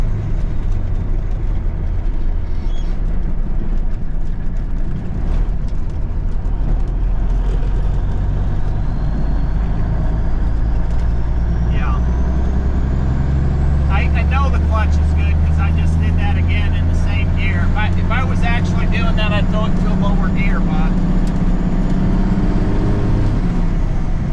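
An International Eagle truck with a rebuilt Cummins 444 engine driving, a steady low diesel drone and road rumble heard from inside the cab, with the engine note shifting as it slows to turn, and someone talking over it.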